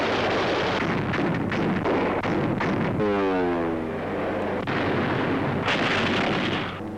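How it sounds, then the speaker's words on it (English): A ship's anti-aircraft barrage against attacking bombers in a 1943 Soviet newsreel: loud, continuous roaring blasts and rumbling detonations, with a whistling sweep midway through and thick wartime noise throughout. "the fleet throws up a barrage of anti-aircraft fire"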